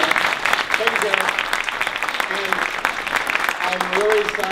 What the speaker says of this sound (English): So first round of applause.